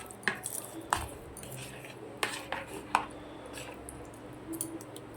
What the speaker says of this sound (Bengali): এবার এটি আমি একটি চামচের দ্বারা মিশিয়ে দিলাম